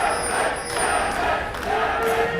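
Esports arena crowd at a 2015 EU LCS League of Legends match cheering for Gambit, a steady broad roar of many voices throughout with slight swells, no distinct talk.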